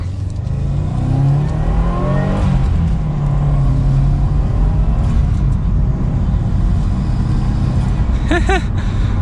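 A Subaru WRX engine hums and climbs in pitch as the sport sedan accelerates, heard from inside with steady road noise and a short tonal chirp near the end.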